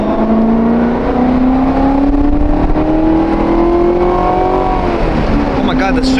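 Rising supercharger whine from a stock Corvette as it accelerates, a loud steady tone climbing in pitch over engine roar from inside the car, with people talking briefly near the end.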